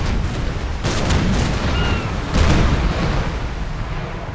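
Canister shot from cannons fires in Napoleon: Total War with heavy, booming bursts. Two strong blasts roll over a continuous rumble of battlefield noise.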